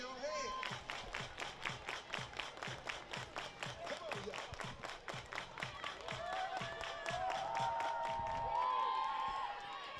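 A baseball crowd at a night game in Seattle claps in steady unison, sharp regular beats running throughout, with a rising sustained tone entering toward the end.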